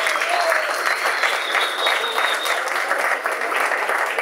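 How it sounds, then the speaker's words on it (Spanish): Steady, enthusiastic applause from a jazz concert audience, with a few whistles rising above the dense clapping and no speech over it. "Un aplauso para él."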